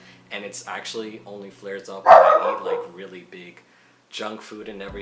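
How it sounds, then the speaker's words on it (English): A pet dog barks and yelps in a sharp burst near the middle, loud and close, breaking through steady indoor talk from a speaker that runs before and after it. "that's my dog barking"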